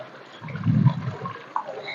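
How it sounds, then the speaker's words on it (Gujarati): Irrigation water flows across a farm field, a short soft rush with a brief swell in the middle and a small splash near the end. "વાડીએ પાણી હાલતું હતું"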